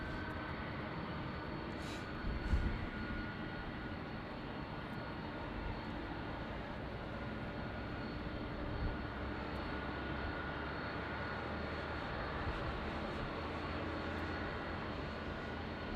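Boeing 767 jet with CF6 engines at LAX, a steady, broadband engine roar holding evenly throughout at moderate distance, with no voices.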